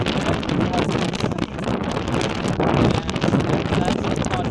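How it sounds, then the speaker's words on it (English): Strong wind buffets the microphone on an open riverbed in Cuttack, producing loud, constant rumbling gusts throughout without a break. "The wind here is really strong."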